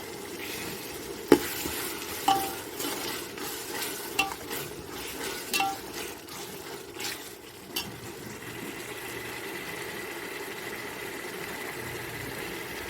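Chopped tomatoes go into frying biryani masala for Donne chicken biryani and are stirred with a series of scraping clinks over a steady background sizzle, the stirring fading after several seconds into continuous frying.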